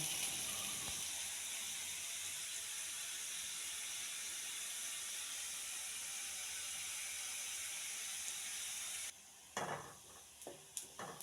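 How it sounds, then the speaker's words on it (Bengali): Onions frying in a pan for a home-cooked fish, potato and tomato dish, a steady loud sizzle and hiss running unbroken for most of the clip, then briefly interrupted by a few clattering stirs near the end. "এখানে আমি পেঁয়াজ ভেজে নিচ্ছি"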